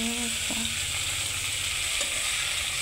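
A home-cooked dish fries in a pan and is stirred, producing a close, continuous sizzle with a few soft scrapes of the stirring utensil and no voices.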